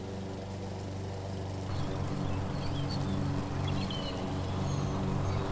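A lawn mower engine at roughly 3,000 RPM drones steadily with its blades engaged on grass, a continuous rough mechanical roar that swells slightly partway through.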